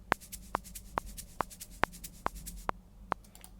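A virtual shaker from the Session Percussionist sample library plays a steady, evenly spaced rhythm of about eight crisp, bright shakes alone, each short hit clearly separated and fairly soft.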